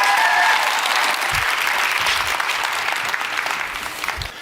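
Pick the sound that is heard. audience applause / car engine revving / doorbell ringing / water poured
audience applause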